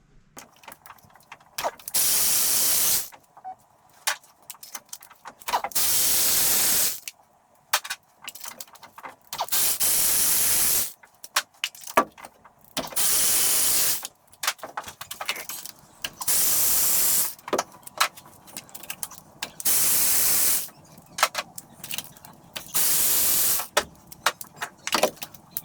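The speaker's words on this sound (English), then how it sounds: "So now we just gotta get our spark plugs out." Spark plugs are worked out of an engine with clicking ratchet and tool noises, broken up by repeated loud bursts of hissing air of a second or two each, all close and without talk.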